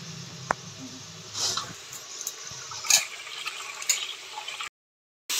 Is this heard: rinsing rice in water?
yes